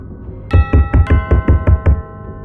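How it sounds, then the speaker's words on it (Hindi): Eight loud, evenly spaced knocks or thumps on a door, booming and close, with a faint ringing doorbell tone behind them. "अब डोरबेल के साथ साथ जोर जोर से किसी के दरवाजे को खटखटाने की आवाज़ भी आकांक्षा के कानों में गूंज रही थी।"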